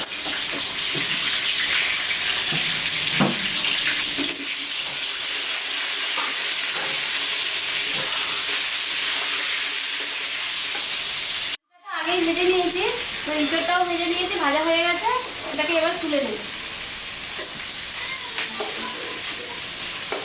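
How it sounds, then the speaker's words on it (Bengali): Potatoes frying in hot oil in a pan, a bright continuous sizzle with occasional stirring clatter, interrupted by a brief cut, then crackling sputters; a voice speaks faintly at times. "আলুটা ভেজে নেব।"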